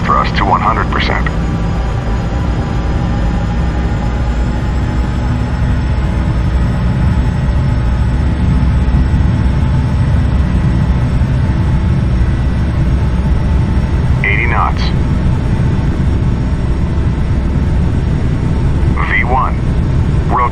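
Jet engines in Microsoft Flight Simulator X spool up to full thrust for a takeoff roll, giving a loud steady low roar that fills the whole stretch, with a few brief higher tones over it.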